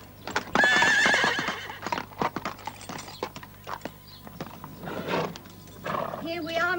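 A horse whinnies loudly near the start, a bright wavering cry that fades into clattering hoof-like knocks and shuffling, with people talking and scattered noises through the rest.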